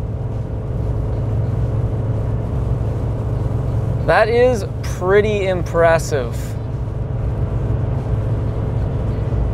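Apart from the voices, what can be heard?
Chevy 1500 2.7L turbo four-cylinder engine pulling uphill at 3,200 RPM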